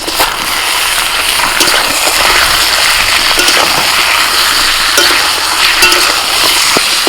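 Chicken pieces, washed and drained, are tipped into half-fried onions in a hot pan, giving a loud, steady sizzle and crackle with stirring scrapes throughout, no voices.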